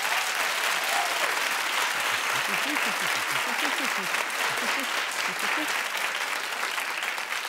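Sustained audience applause from a crowd at a comedy or talk event, steady and fairly loud throughout with dense clapping and no pauses.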